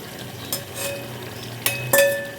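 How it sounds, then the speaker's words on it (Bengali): Pre-fried pointed gourd is stirred into hot spice masala in a pan, with a soft oil sizzle underneath and a few sharp clinks and scrapes of a spoon against the pan. "এখন এই মশলার সাথে পটলটাকে খুব ভালো করে কষাবো"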